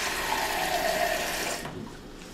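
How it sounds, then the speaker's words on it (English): Water runs steadily from a kitchen tap while red chile is being made, a broad constant rush that cuts off near the end, leaving quieter room sound. "I'm going to get some more water."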